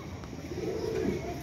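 A pigeon with pink eye rings coos softly once, a low brief murmur close by against a steady background hiss.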